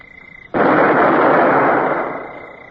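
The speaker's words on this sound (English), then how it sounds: "Well, I believe we can open fire, Mr. Davy." A ship's gun fires at a vessel in a radio drama, sounding as a sudden loud, close blast that rolls into a long roaring rumble and fades slowly, after a faint steady tone before the shot.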